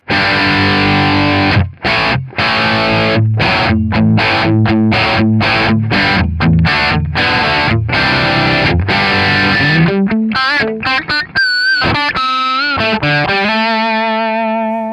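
An electric guitar without a distortion pedal plays a loud, rhythmic run of chugging chords with crunchy amp gain, ending on sustained ringing notes and bends.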